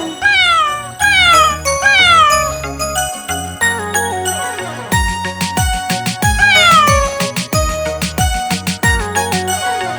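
A cat's meows in a cheerful children's nursery rhyme ring out again and again over bouncy, tinkling cartoon music, loud and close throughout.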